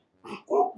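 A pig grunting sound effect: two short, close grunts in quick succession, with a third sound starting at the end, and no talking.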